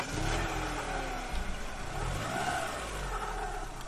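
A car engine revs up and accelerates in a horror video game, a steady mid-pitched drone that rises slightly, heard alone and fairly close.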